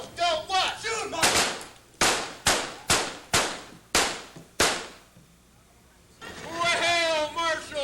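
Sharp, loud blank gunshots ring out one after another in a staged Wild West gunfight show at Knott's Berry Farm, about seven cracks in quick succession with short echoing decays, bracketed by actors shouting.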